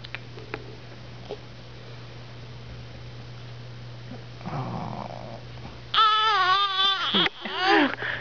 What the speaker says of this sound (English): So that was a yawn, a cry,